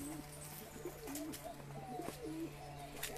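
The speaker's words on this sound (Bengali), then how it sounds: "দুটো পায়রা এখানে আছে আর দুটো আছে ওই কোনায় নিচে" Pigeons, including a lakka pigeon, coo in a small loft with soft, low repeated rolling calls and faint chirps against a steady background hum.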